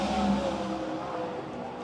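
A race car roars past on a qualifying lap at Silver Dollar Speedway, a steady engine drone holding at moderate level and easing slightly as it goes by.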